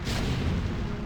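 In a StarCraft: Brood War match, a Protoss photon cannon is destroyed with a single deep, rumbling boom that dies away over about a second.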